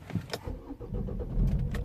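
A Vauxhall Astra J engine cranks over and catches close by, a short starter whirr followed by a low engine rumble settling into an idle, with no talking.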